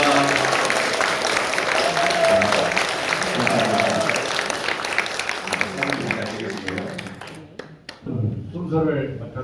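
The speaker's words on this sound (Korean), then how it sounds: "우리 두 분 장로님과 권사님들 인사하실 때 큰 박수 축하하시기 바랍니다" A church congregation claps to congratulate newly ordained elders and deaconesses at an elder ordination service, with sustained applause under an amplified voice. The clapping thins out later as talk carries on.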